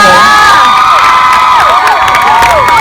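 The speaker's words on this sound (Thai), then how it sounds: "ขอเสียงให้ตั้มกับโดมด้วยค่ะ" A large crowd at a cover night performance cheering and shouting loudly and continuously, with high-pitched whoops rising and falling above the roar.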